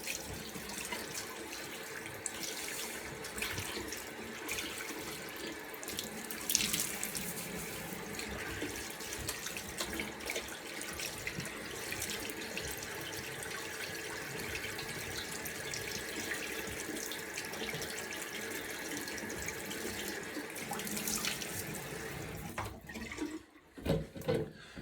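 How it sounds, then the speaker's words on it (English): A tap runs hot water into a sink before shaving, a steady close splashing stream that continues unbroken, then briefly sputters and cuts off at the end. "Just gonna put some hot water on my face."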